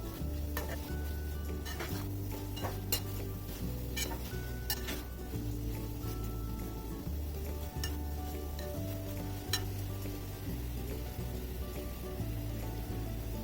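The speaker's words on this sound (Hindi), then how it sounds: "इन दोनों चीज़ों को मैं पहले डाल रही हूँ, टमाटर को मैं बाद में डालूंगी। अच्छे तरीके से चिकन के अंदर इसको मिक्स कर देंगे।" Capsicum and onion are stirred into chicken in a hot pan, sizzling constantly while a utensil scrapes and clicks against the pan in repeated, uneven strokes.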